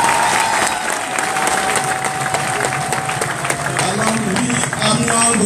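Crowd at a large political rally in Libreville applauding and cheering loudly and continuously, a dense wash of clapping with shouts and voices mixed in throughout.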